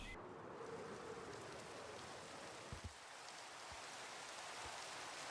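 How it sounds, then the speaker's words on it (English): Rain falls steadily in Minecraft, a soft continuous patter with a few faint drips, alone and quite quiet throughout. "And go figure it's raining because"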